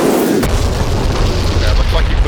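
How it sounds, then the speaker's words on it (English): Bombs striking a radar site in the DCS flight simulator, heard as a loud sustained rumbling boom after a sharp onset, deep and roaring across the whole clip. "I saw 2 explosions hit the radar before the bomb I was watching hit the radar"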